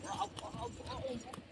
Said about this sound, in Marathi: अरे बघ घोडा कसा पळतोय